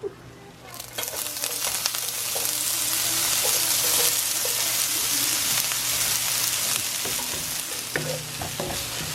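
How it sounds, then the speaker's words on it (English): Chopped onions saute in a hot pan, giving a loud, even sizzle after a quiet start, with scattered clinks and scrapes of stirring on top. "Onions are sauteed pretty well."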